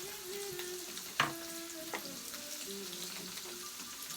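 Chopped onion frying in a pan sizzles quietly and steadily, with a sharp clink of a utensil and light stirring scrapes, with no voices.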